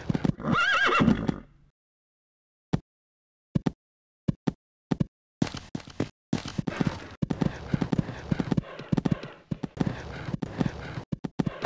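Video game horse in Equestriad 2001 gives a loud whinny at the start, then after a pause come scattered hoof strikes building into a rapid, rhythmic galloping clip-clop that runs to the end.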